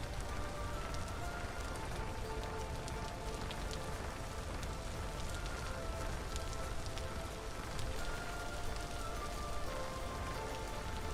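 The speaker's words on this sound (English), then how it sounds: "You just fly through the rain." Steady, dense rain pattering in a video game while flying through dark, cloudy weather, a continuous soft wash of drops at moderate level with no talk.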